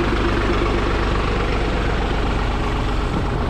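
Steady, close tractor engine idling in a garlic field with a low continuous rumble and no pauses.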